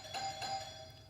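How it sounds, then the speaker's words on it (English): Two tones of an electronic doorbell chime ring out in quick succession, faint and somewhat distant indoors, with no talking. "Why are they ringing the doorbell?"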